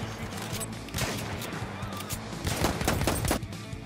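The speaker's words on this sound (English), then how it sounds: "you cannot shoot, you cannot fire while you are jumping" Video game gunfire rattles in rapid bursts, dense overlapping shots crackling in quick succession and swelling louder toward the end over a busy background.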